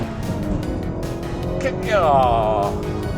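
Car engine accelerating hard in a rolling race between a Toyota Camry TRD, a Honda Civic Type R and a Honda Accord, a loud rising engine note under a man's speech, heard from inside the car.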